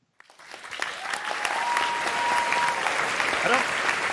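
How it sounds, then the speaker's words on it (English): A canned applause sound effect on a sports talk show starts abruptly after silence and swells into steady, dense crowd clapping with a few whistles and cheers. "I don't know why you get the applause"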